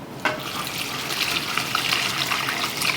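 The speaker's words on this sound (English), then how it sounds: "I'm gonna go in with all the broth." Broth pours steadily into a pot for a Deep South BBQ dish, a continuous close watery splash and trickle that begins with a sharp onset and runs without talk.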